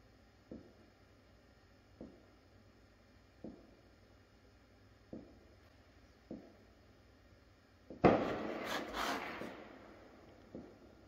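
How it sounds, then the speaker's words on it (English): Fourth of July fireworks thud in the distance at regular intervals of about a second and a half, then a louder crackling burst erupts and rumbles for a few seconds before another faint boom. "Stupid 4th of July fireworks,"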